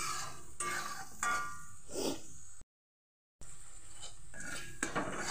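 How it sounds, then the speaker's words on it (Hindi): A spoon scrapes and knocks against a pan while sautéing a ground tomato masala, a close series of gritty metallic scrapes broken by a short complete silence midway, then more stirring; no voices. "इसको भी बढ़िया से भून लेंगे।"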